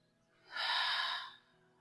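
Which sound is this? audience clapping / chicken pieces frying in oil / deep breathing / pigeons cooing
deep breathing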